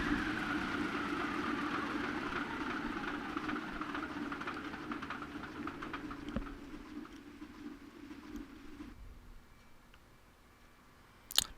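A2A F4U-1A Corsair radial engine in a flight simulator shutting down after the mixture is cut: a steady low drone fades and winds down over several seconds, then settles into quiet cockpit ambience with a brief click at the end.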